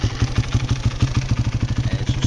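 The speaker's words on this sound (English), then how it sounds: "turn my four-wheeler on, if it's on." A Yamaha YFZ450 four-wheeler idles close by, its single-cylinder engine giving a quick, even run of loud pulses that keeps going without a break.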